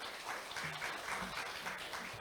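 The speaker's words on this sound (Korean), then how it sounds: "박수로 환영해 주시기 바랍니다." An audience at a 2023 Korean vocational training and HRD forum applauds to welcome a presenter, producing a steady, fairly quiet wash of many hands clapping that lasts the whole moment without any speech.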